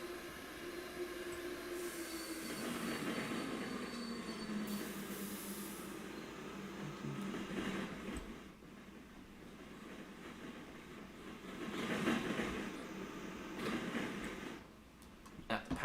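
An SNCF passenger train in a train video game rumbles along with a steady rail drone. A rising whine and louder swells come and go, and a voice talks over parts of it.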